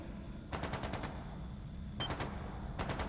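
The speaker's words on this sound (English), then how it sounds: "It's gunfire." Gunfire in the video game Trails into Reverie: two or three short bursts of rapid automatic shots, fairly faint and distant over a low background rumble, with no talking.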